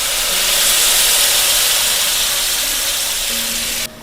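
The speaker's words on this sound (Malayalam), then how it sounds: "കലക്കി വെച്ചിട്ടുള്ള 1 കപ്പോളം പുളിവെള്ളം ഇതിലോട്ട് ഒഴിച്ച് കൊടുക്കാം." Tamarind water pours into hot chilli pickle for a Kerala mulak achar, giving a loud, steady sizzling hiss that holds for about four seconds and then drops off suddenly.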